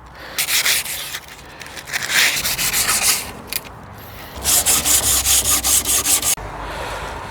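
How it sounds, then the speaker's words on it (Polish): Wooden door strips being sanded by hand, rhythmic rasping rubs in close succession, loud and near, with a quicker steady run of strokes toward the end and no talking. "Kolejny etap to po prostu przeszlifowanie tego, zeszlifowanie tych rantów"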